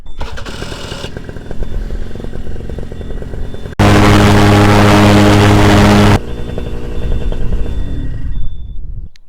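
Paramotor engine idling a little high on the ground, a steady drone that swells into a louder, harsher run for a few seconds before settling back to idle.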